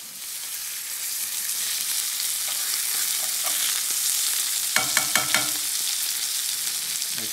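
White fish fillets laid skin side down sizzle steadily in hot brown butter in a pan, a constant crackling fry with a few sharper pops and spatters midway, no voices.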